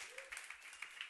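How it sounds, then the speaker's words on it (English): A church congregation gives a hand clap, a sparse, faint spatter of individual claps spaced at irregular short intervals, heard from a distance with a soft voice murmuring underneath. "You should give yourselves a hand clap because of that."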